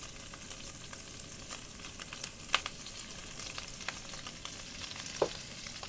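A hamburger patty frying on a hot pan in a camper van, a faint, even sizzle with crackling pops and a couple of sharper spatters.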